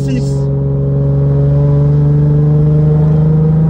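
A Nissan 350Z engine with a Cobra exhaust drones loud and close, its pitch climbing slowly as it revs in a steady, even tone.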